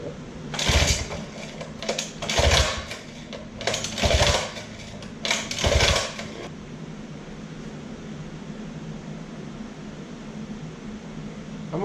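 A 1956 Johnson 30 hp outboard motor on a homemade electric starter cranks in four short bursts without firing, each one a rapid mechanical churning up close, followed by a quiet background hiss.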